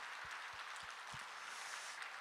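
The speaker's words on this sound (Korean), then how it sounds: "우리 아버지 하나님께 감사의 박수, 찬양의 박수 한번 올리겠습니다" Congregation clapping in thanks and praise during a Korean church worship service, a steady wash of many hands applauding together from the room, fairly even in level, with no talk over it.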